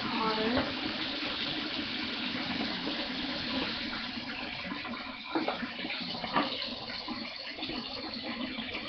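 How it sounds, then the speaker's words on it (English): Hot water runs steadily from a tap into a sink already full of water, a continuous broadband rush with a couple of brief knocks, filling the whole stretch with no talk over it. "now I have a sink full of water and such. I'm going to make it a little bit hotter."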